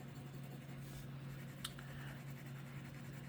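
A fountain pen scratches softly across smooth Tomoe River paper, laying down a Ferris Wheel Press Golden Gate Glow ink swatch. The faint, close strokes run continuously, with one sharper tick partway through, against a low steady hum.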